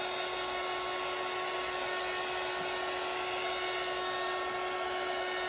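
A heat gun blows steadily while heating epoxy on a vase, a constant, even whirring hiss with a high tonal whine and no speech.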